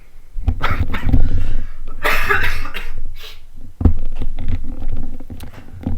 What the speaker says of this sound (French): tousser un peu.